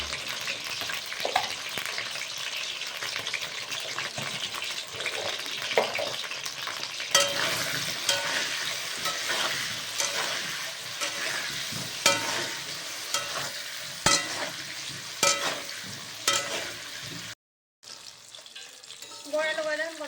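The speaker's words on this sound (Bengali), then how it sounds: "আলুটাকে ভেজে নেবে নুন আর হলুদ দিয়ে ভেজে নেবে লাল করে" Potatoes fry in a pan with salt and turmeric, giving a continuous close sizzle broken by frequent stirring scrapes, with a brief dropout near the end.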